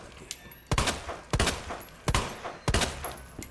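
Four heavy gunshots boom at regular intervals, close and loud with short decaying tails, from the Resident Evil 2 Remake video game.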